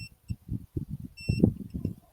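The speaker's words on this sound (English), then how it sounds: "if you're too far one direction or another, it's going to beep at you and let you know" Sawmill machine giving short electronic warning beeps when unlocked or moved too far, a few brief tones in pairs between bursts of someone talking over them.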